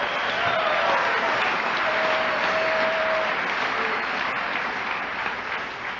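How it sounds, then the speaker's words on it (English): Sustained, loud applause from an AA meeting audience, a dense unbroken wash of clapping that holds steady throughout with no voices over it. "You're clapping for yourselves"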